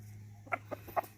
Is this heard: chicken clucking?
yes